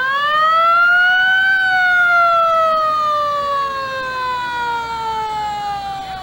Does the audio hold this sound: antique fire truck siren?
yes